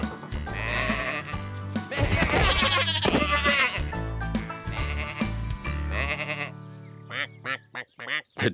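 Cartoon sheep on a farm bleat repeatedly in wavering calls, loud and close, overlapping one another with a musical backing underneath, followed by a few short sharp sounds at the end.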